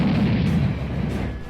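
A grenade explodes in an action audio drama set in a zombie world: one loud, sustained, rumbling boom that lasts over a second and fades slowly, with no voices.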